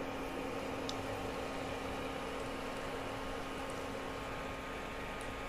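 Lentil fritters (dal bora) frying in hot oil give off a steady, even sizzle, a continuous broadband hiss with a faint hum beneath, close by and with no one talking.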